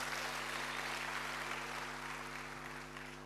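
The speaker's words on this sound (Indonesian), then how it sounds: "Berikan tepuk tangan bagi Tuhan." Applause from a church congregation at a worship service, a steady dense wash of clapping filling the room, fairly distant and even, with a low electrical hum beneath and no talking.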